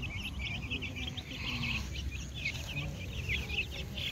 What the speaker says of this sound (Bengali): এগুলো রোডাইল না কি মুরগি রে?